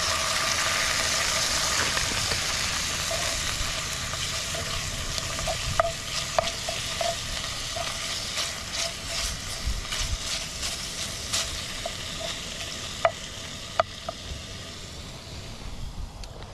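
Bacon and eggs frying in a cast iron skillet on a camp stove give a continuous close hiss of sizzling fat, broken by scattered pops and crackles.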